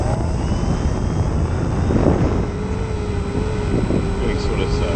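An RC J3 Cub model airplane flying over marshland throttles up, its small engine a steady buzzing drone with rising pitch, fairly close and loud, with someone talking over it.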